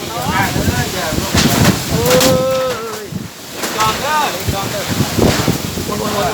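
Strong rainstorm wind buffets the microphone in loud gusting roars, while people talk and shout excitedly throughout.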